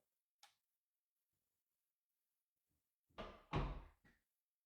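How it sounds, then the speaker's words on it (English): A linen closet door in a house swings shut with a soft, solid thud and latch click, preceded by a faint tap; otherwise quiet. "Oh, that door shuts so nice."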